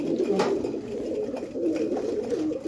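A white-eyed female pigeon coos close by in low, throaty, rolling notes that run continuously, with a faint hiss in the background.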